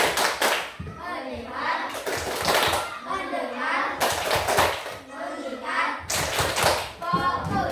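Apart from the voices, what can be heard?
children doing a rhythmic clapping routine, 'tepuk fokus'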